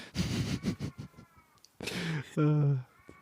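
A cat hollers loudly, producing a drawn-out, strained meow with wavering pitch, close to the listener, after a stretch of people talking in a room.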